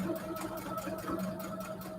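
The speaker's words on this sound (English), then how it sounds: "Let me back stitch here" Steady, rapid stitching from a sewing machine back stitching fabric for a storage cube, a continuous close mechanical whir with regular pulses.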